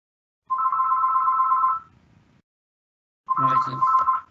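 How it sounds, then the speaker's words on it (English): A house telephone rings during an audit committee meeting: two loud, steady electronic trill bursts close by, separated by a short silence. Brief voices overlap the second ring. "It's the house phone."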